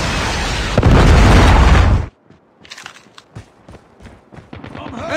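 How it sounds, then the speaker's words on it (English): A predator missile strike in Call of Duty hits as a single loud, broad explosion roaring for about two seconds, then cuts off abruptly into quieter scattered game sounds and faint radio-style callouts. "Friendly predator missile inbound."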